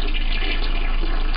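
A toilet flushes in a bathroom, a continuous rushing swirl of water that holds steady and fairly loud from start to finish with no talking.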